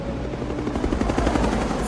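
Steady rapid thumping of helicopter rotor blades with engine whine, loud and close, continuous throughout, from the Apollo 13 film soundtrack.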